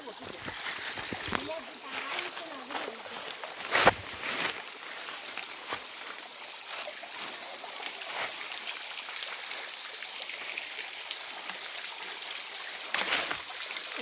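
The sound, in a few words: flowing stream water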